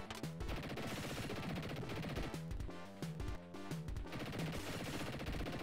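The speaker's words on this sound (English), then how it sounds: "I'm gonna shoot this whole damn town up." Retro 16-bit gunfire from the Dick Tracy game on the Sega Mega Drive: dense, continuous rapid shooting over a busy chiptune soundtrack, loud and steady for several seconds with brief dips.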